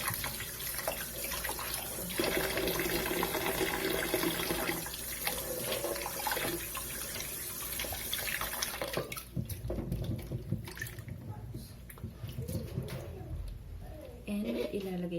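Tap water runs steadily into a sink while potatoes are washed, a continuous close splashing rush that shifts as the potatoes are handled, with birds and a speaking voice faintly in the background.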